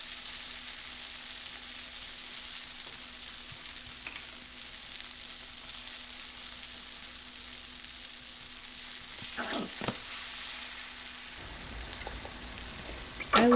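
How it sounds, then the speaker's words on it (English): Plant-based Beyond sausage patties brown in a pan with a steady, close sizzle and crackle throughout, joined by a few brief utensil scrapes and clinks near the end. No one speaks. "Those are Beyond sausage patties that I have browning over there."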